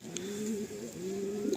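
Kala Sabuj pigeons coo softly at close range, a low rolling, slightly wavering call that dips briefly and then resumes, with no talking.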